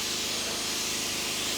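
Compressed air hissing steadily at close range as it blows leftover water off a vehicle during a full mobile detail, a continuous broadband rush with no pauses and no talking.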